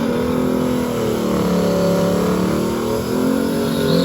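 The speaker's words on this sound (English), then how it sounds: "Okay, so we got our stick shift Mustang here." A stick-shift Mustang drag car at the track runs its engine loudly and steadily, a continuous close engine roar with layered harmonics that dips briefly near the end, no talking.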